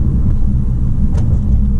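2019 Toyota RAV4 Hybrid Limited driving, heard as a steady, loud, low cabin rumble of road and drivetrain noise without speech.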